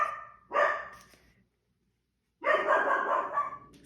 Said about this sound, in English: how to get your puppy to stop being so barky